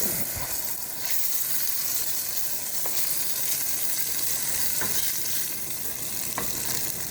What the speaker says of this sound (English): Now, I can take this, stir it up a little bit.